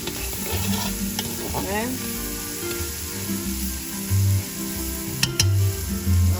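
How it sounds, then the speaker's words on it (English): Lima beans with a Maggi cube sautéing in a pan, a steady close sizzle broken by repeated scraping stirs and several short bursts of louder spoon-on-pot knocks; a voice speaks once. "Maggi cube to the lima beans that I'm sauteing. And again, I stir it in evenly"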